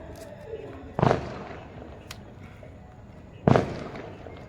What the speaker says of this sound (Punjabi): ਆ ਕਿਹੜਾ ਯਾਰ ਪਟਾਕੇ ਚਲਾਉਣ ਲੱਗ ਗਿਆ